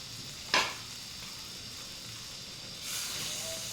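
Green broad beans and brinjal stir-frying in a pan give a soft, steady sizzle and hiss as the water cooks off, with a brief sharp stir or scrape near the start and the hiss swelling slightly toward the end.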